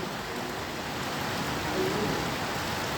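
Rain falling at night in Sylhet, an even, dense wash of hiss that holds steady and fairly loud for the whole stretch, with no voices.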